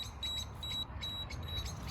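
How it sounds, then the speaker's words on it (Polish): A thin, high electronic beep from a Bradley smoker's temperature alarm repeats at a steady pace, four short tones over a low background rumble. "Taki mam ustawiony alarm."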